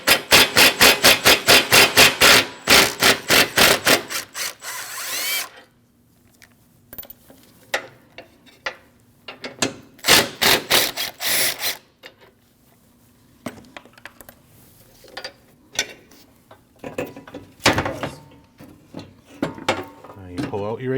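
Ratchet work on two 13mm bolts during AC condenser replacement on a 2014-2023 Jeep Cherokee: a loud burst of rapid ratcheting clicks at the start, then scattered knocks, rattles and softer clicking from tools and parts.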